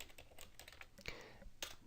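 Typing on a computer keyboard while entering spreadsheet data in Microsoft Excel 2010, a steady patter of close keystrokes with a couple of sharper, louder key presses near the end, no talking.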